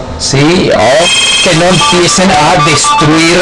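A telephone rings during an online class about national parks, its tones sounding under a man's loud, close speech, which dominates throughout.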